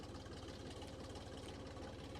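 A three-cylinder tractor engine idles steadily up close, a low, even rumble with a constant chugging pulse throughout.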